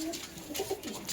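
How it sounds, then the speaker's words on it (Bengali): Saharanpuri pigeons coo at a pigeon sale in Beldanga, Murshidabad: a few soft, low, rounded coos rise and fall over a murmur of background noise in a short, close burst. "সারানপুরি নাপ্তায় পায়রা"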